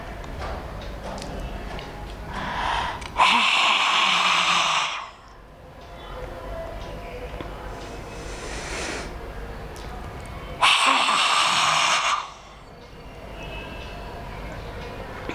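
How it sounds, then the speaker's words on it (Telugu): A person performs the lion's roar breathing exercise, forcing a harsh breathy exhalation from the throat with the tongue extended, two loud roaring bursts of about two seconds each separated by quieter breathing. "నాలుకని పెద్దదిగా చేస్తూ సింహ గర్జన చేయాల్సి ఉంటుంది"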